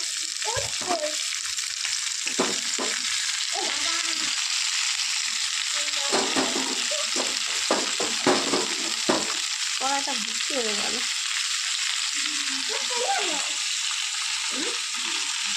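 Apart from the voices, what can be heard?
stirring frying amla in a wok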